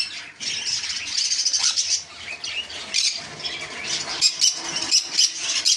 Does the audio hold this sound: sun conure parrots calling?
yes